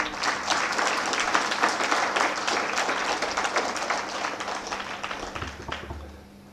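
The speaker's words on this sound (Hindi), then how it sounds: "तालियां बजाएंगे तो ऐसा ही होगा" An audience at a meditation center claps in a loud, sustained wave of applause that gradually thins and fades toward the end.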